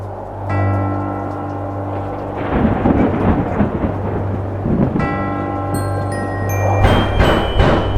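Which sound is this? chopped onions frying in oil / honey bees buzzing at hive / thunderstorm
thunderstorm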